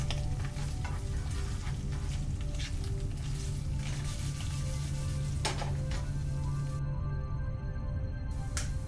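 Soy chorizo fries steadily in a pan, a dense continuous sizzle with crackling pops throughout, close and fairly loud, with no voices.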